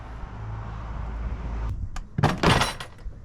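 A few sharp plastic cracks and snaps as trim clips pop loose from a 4WD's door card, close and fairly loud after a quiet hum.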